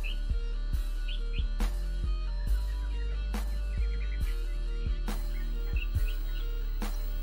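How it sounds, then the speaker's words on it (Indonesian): A yellow-vented bulbul (trucukan) sings softly, giving scattered quiet chirps and short twittering phrases over a steady low hum, with faint clicks between calls. "akan terlihat burung terucukan mengeluarkan suara ropelan pelan"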